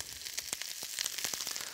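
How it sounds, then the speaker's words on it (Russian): Shredded cabbage for okonomiyaki sizzles and crackles in a hot frying pan, a steady quiet hiss broken by sharp pops, with no voices. "пусть капуста зашкварчит"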